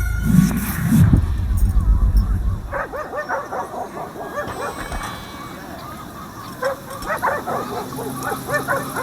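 Wild dogs in the Call of Juarez: Gunslinger video game bark and yip in quick, overlapping bursts after a loud opening rumble, the barking repeating at mid distance over a steady background.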